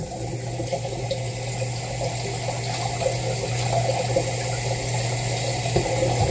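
Steady stream of running tap water, a continuous watery rush with a low hum underneath, no talking.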